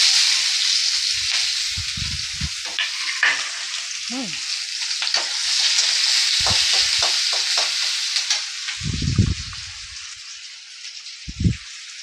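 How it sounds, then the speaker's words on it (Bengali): Onion fries in a pan while a drumstick dish is cooked. A steady, close crackling sizzle runs throughout, broken by several low scraping strokes of a spatula stirring, with no speech. "পেঁয়াজটা একটু ভাজা হয়ে যাক"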